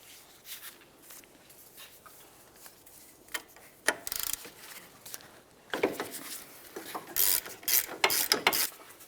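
Ratchet clicking as an 18mm bolt on a 2000-2006 Chevrolet Tahoe rear brake bracket is loosened, with bursts of ratcheting and mechanical rubbing in a quiet garage, no talking.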